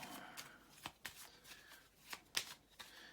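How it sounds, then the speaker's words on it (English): A deck of cards is quickly shuffled during a tabletop game turn, giving a series of sharp riffling bursts with soft pauses between them. The sound is close and fairly quiet, with no talk. "Do a quick shuffle."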